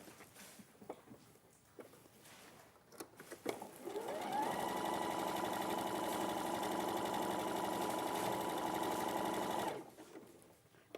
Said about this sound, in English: So I'm going to sew it into place